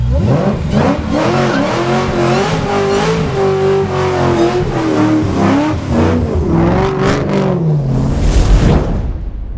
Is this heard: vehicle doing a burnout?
yes